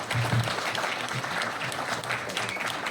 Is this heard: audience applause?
yes